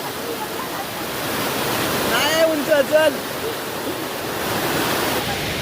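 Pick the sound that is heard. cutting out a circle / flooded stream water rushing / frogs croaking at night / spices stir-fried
flooded stream water rushing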